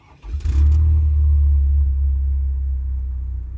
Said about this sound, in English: So how about we start the vehicle?